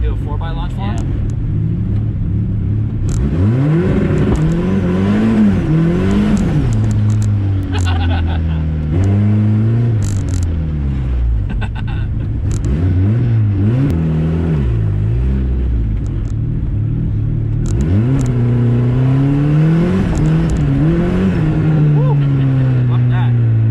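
Turbocharged all-wheel-drive Honda Civic wagon with worn, bald tires revving hard for a launch on a mountain trail, its engine note rising and falling in repeated surges, loud and close under continuous talk.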